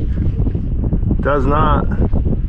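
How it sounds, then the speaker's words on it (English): Strong wind buffets the microphone outdoors at a post-frame barndominium build site, a heavy continuous low rumble, with someone speaking briefly over it. "Sorry, it just got real windy."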